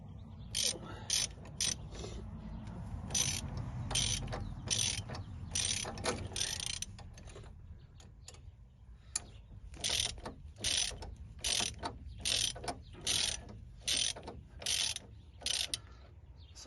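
Ratchet wrench tightening ball joint bolts on a 1999 Chevrolet Suburban, with bursts of rapid metallic clicking that start and stop in short strokes, close and clear, over a low rumble early on.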